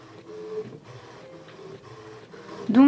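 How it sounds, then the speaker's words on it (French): A printer feeding 300 gsm matte paper gives a steady mechanical whir in repeated passes, with a regular rhythm of print-head strokes and a louder clunk at the end, close by and alone. "l'impression est en cours"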